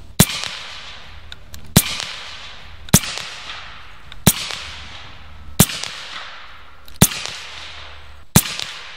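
An AEA Zeus air rifle fires slugs at a target: seven sharp, loud cracks at steady intervals of about 1.3 seconds, each followed by a brief decaying tail over a quiet background.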